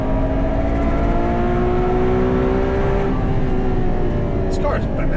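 A Ferrari 812 Superfast's V12 engine accelerating hard, a loud continuous rising engine roar heard from inside the car.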